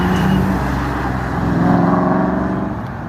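An Aston Martin sports car engine at speed on a hot lap, a steady loud droning growl held throughout with slight swells in pitch, no voices.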